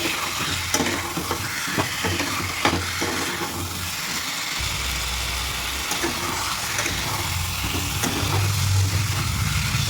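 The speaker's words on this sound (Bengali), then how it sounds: "খুব ভালো করে মশলার সঙ্গে কচুটাকে কষিয়ে নেব।" Taro sautéing with spices and coriander in a pan, a steady close sizzle with repeated scraping and stirring knocks from a spatula, continuous and fairly loud throughout.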